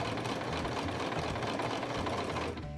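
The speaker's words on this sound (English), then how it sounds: "I'm going to switch my sewing machine back to a straight line, and we're just going to go from where we are right here" A sewing machine runs a straight stitch across paper, a steady close-up mechanical whir that holds evenly throughout and eases slightly at the very end, with no talking.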